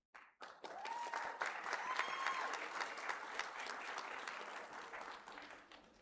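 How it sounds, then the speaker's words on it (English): Audience applause at a nursing and surgical technology commencement ceremony, a steady dense clapping that starts abruptly and holds at a fairly loud, even level for several seconds. "It's always nervy when you hear applause for a politician"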